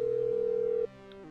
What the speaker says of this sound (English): So use the phone to trigger the explosive charge